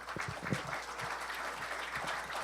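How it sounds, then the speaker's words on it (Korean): An audience at a civic cultural event in Daejeon gives faint, distant applause as the city's mayor arrives. Scattered claps run steadily through the room at low level. "한번 박수를 좀 부탁드리겠습니다"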